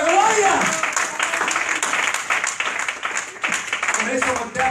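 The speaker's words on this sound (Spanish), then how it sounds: "¡Oh, dale ese aplauso al Señor de la gloria!" A church congregation claps and cheers in a reverberant hall, a dense continuous applause mixed with loud shouting voices throughout.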